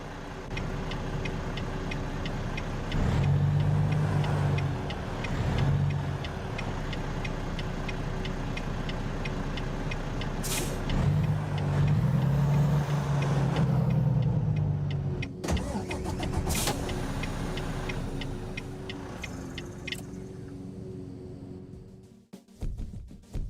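A Volvo VNL Globetrotter XL truck in American Truck Simulator drives with a steady engine drone and a few rising revs, the rumble thinning out and fading near the end.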